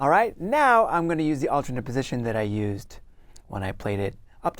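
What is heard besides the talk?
None of the usual background noises is heard.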